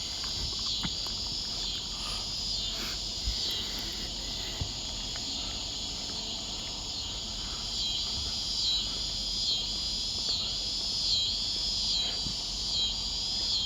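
Scissor grinder cicada from a played recording: a continuous high, shrill buzz with rhythmic pulsing throughout, steady and moderately loud over faint background hiss.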